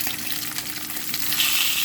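Steady hiss and crackle of food sautéing in a hot pan for sinigang, continuous and close, with a slight stirring texture and no voices.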